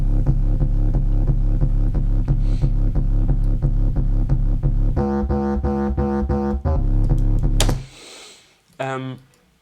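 A messy, uneven synth bass line from an electronic track, with loud, steady, repeating low pulses that thicken midway before cutting off near the end, followed by a brief burst of noise and a short tonal blip.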